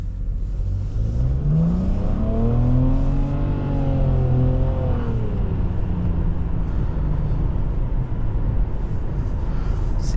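A 2022 Nissan Rogue Platinum's 1.5-litre turbocharged engine revs up with a rising, spooling whine, then settles into a steady loud drone, close and continuous.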